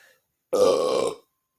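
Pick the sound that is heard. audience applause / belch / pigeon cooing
belch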